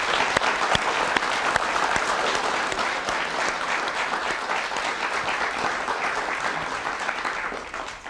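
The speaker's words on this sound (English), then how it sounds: "So let's give them all a big hand." An audience at a young storytellers awards event applauds, with a dense, sustained wash of clapping that lasts throughout and trails off only at the very end.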